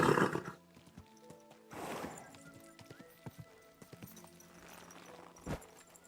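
A horse in the video game Kingdom Come: Deliverance II whinnies loudly at the start, then its hooves clop in scattered, uneven steps, with a second short burst of sound later.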